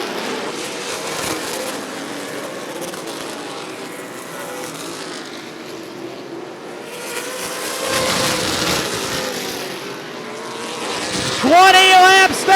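Super late model race cars roar around Rockford Speedway, engines swelling and fading as packs pass, with a commentator talking over the continuous racing noise.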